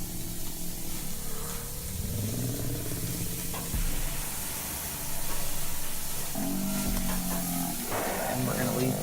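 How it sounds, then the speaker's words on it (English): Steady frying sizzle and hiss from steak searing in a hot pan, with clattering and scraping at moments and brief talk over it. "Don't worry about the sizzling. We're getting a nice hard sear on it."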